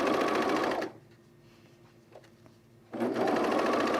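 A sewing machine stitching a zip hoodie runs in two loud, steady bursts of rapid mechanical whirring, separated by a quiet pause of about two seconds.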